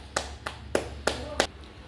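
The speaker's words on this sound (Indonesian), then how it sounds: "Terima kasih, tepuk tangan dulu." A school class clapping in a classroom: five sharp, evenly spaced claps, close and fairly loud over a faint steady room hum.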